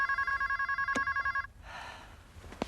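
An old telephone bell rings in rapid pulsing bursts for about a second and a half, then stops, followed by faint room noise and a brief knock.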